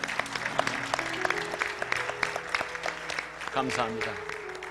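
Applause from a church prayer-meeting congregation for pastors, a steady wash of clapping running throughout, with someone speaking over it and giving thanks.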